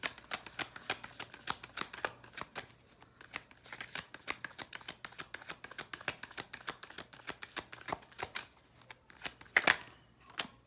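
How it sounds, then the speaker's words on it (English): A deck of tarot cards shuffled rapidly and pulled out, a steady close stream of papery flicks and riffles, fairly quiet, ending in a few sharper slaps as cards are laid down. "What I'm going to do is just pull all 10 cards so I can look at the energy all at once."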